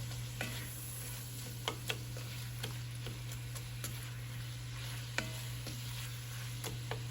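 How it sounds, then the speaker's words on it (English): Onions cook in a pot, a soft steady sizzle under faint scattered ticks and scrapes of stirring, quiet and close, with a low hum underneath and no talk. "we're gonna add our onions in and let them start cooking too"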